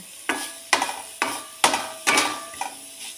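Green bean thoran being stirred in a hot pan with coconut oil, about six distinct scraping clatters of a spoon against the pan at a steady pace, close and clear.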